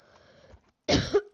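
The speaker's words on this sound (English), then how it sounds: "Oh, it's time to cough." A single sharp, close cough bursts out after a quiet stretch, preceded by a faint low hum.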